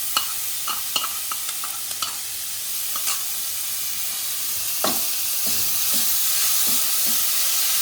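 Vegetables frying in a pan for a homemade oats polao, with a continuous hissing sizzle and a steady series of scraping, clinking stirs against the pan, close by and without talk.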